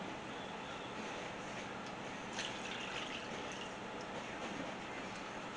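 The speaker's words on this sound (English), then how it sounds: "add 2 cups of water." Water pours steadily into a pot for beef stroganoff, a continuous rushing hiss that holds close and even for several seconds with a slight swell midway.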